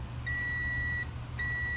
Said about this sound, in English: When I do continuity, if it beeps, it means it's good.